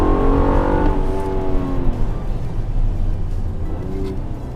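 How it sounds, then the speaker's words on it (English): Engine of a 2017 Honda Accord Touring with the VTEC V6 revs up loudly, then its automatic transmission shifts, the pitch dropping and climbing across gear changes before settling into a lower drone. "You hear the transmission self-upshifting there, downshifting."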